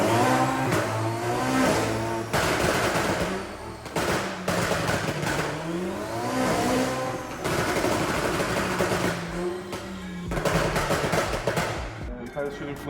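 A tuned Ferrari 488 Pure 1000 twin-turbo engine on a dyno screams through repeated rising pulls, each ending in bursts of loud crackling exhaust pops and bangs before the next run.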